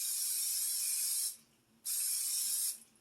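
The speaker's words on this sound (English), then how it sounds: "Finally got to open up my new Berkeley and Jensen spray that we bought a few months back." Berkley and Jensen cooking spray hisses from the can into a pan in two bursts, each about a second long, close and crisp with a short pause between.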